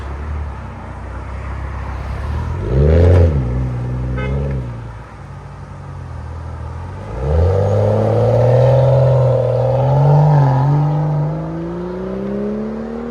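A 2012 BMW 535i with a 3.0L inline-six, xDrive all-wheel drive and straight pipes launches: a loud, close engine blips around three seconds, then roars in a long rising pull that climbs steadily to the end.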